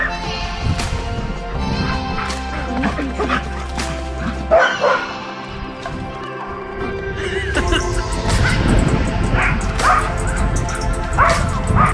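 Several dogs barking and yipping outdoors at a car headlight renovation, repeated close, loud barks with whimpers in between, over a steady low engine-like hum, with a brief crash partway through.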